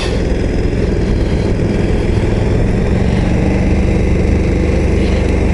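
A KTM 1290 Super Adventure S motorcycle with chain drive and quickshifter rides along in third gear, its engine a loud, continuous rumble mixed with heavy wind roar close to the rider.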